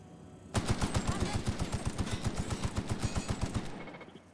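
A rapid burst of automatic gunfire from a weapon in The Outer Worlds video game, about two dozen evenly spaced loud shots starting abruptly and running for roughly three seconds before trailing off.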